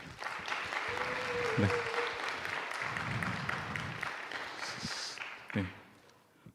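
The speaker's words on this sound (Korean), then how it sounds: "우리 정말 이렇게 하나님께 몸으로 영광 돌린 우리 귀한 형제 자매에게 다시 한번 격려의 박수하면 좋겠습니다" A church congregation at a Sunday worship service applauds warmly for several seconds, the clapping dense and sustained before thinning out, with a brief spoken word from the leader.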